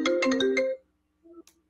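Mobile phone ringtone playing loud and close as a short melodic phrase of bright repeated tones, then a brief quieter tone and a faint chime after it stops.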